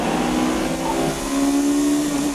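A Honda S2000 engine revs hard on a race track, rising and holding a loud, steady high-pitched wail with shifting harmonics throughout, close and unbroken by speech.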